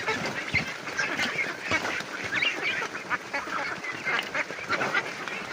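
A flock of ducks feeds on banana and rice bran, quacking and honking busily over one another at close range. The noisy, continuous chatter of the fowl fills the whole stretch.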